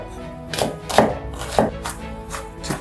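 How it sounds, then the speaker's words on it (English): A kitchen knife cuts onions for a Malaysian chicken curry, giving about five crisp, evenly spaced chops on a board, close and clear with no talking. "Just gonna cut my onions"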